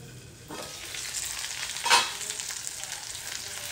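Potatoes and okra fry in a pan with a steady crackling sizzle that swells suddenly as they are stirred, including one sharp scrape of a utensil against the pan.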